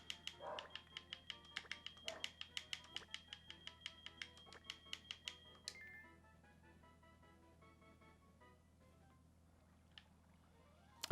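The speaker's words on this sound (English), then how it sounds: "sometimes when dogs bark too much, dogs are such a pain in the butt" A dog barks in a rapid string of sharp, repeated yaps, fairly close, then tapers off into a few scattered sounds and near quiet.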